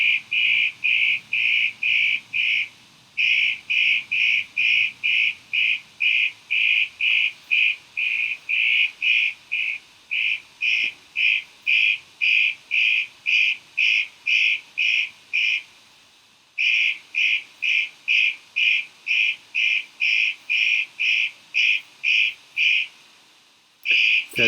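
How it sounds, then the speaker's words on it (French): A single bird repeating a high, clear whistled note in fast regular bursts, loud and close outdoors, the phrases pausing briefly between runs, with no talk over it. "il y a des oiseaux, je ne sais pas si vous vous entendez, mais il y a beaucoup d'oiseaux là où je suis."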